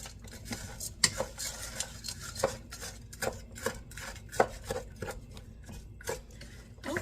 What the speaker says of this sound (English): I'm going to be just stirring it around so it can start cooking.